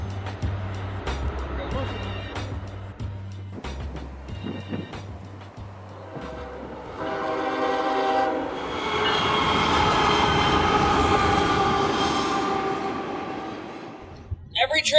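A train rumbles past, starting with uneven clanks and rattles, then swelling into a loud, sustained roar of wheels on rails with faint squeal before fading; a voice is heard briefly under the noise.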